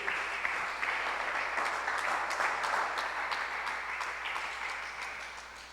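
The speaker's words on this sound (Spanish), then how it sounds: "Le doy un aplauso al Señor." A church congregation applauds together in a steady, dense patter of clapping that fills the room for several seconds, moderately loud and gradually tapering, with no speech over it.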